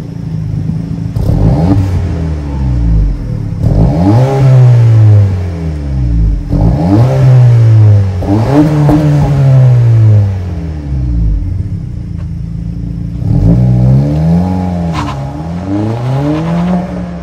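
The 1.5-liter turbocharged four-cylinder engine of a 2024 Honda Civic Si revs loudly several times, each rev rising and falling back to a rumbling idle, close by.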